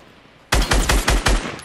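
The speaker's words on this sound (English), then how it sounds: "I shot the dude that was healing" Video game gunfire in a team shooter match, a sudden burst of about five loud, close shots in a steady rapid rhythm after a quiet lead-in, with no voices over it.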